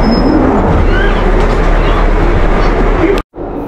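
Loud, steady rumble of a London Underground Jubilee line train in motion, with a sustained roar and faint squeals throughout, then a sudden brief drop to near silence before the noise resumes.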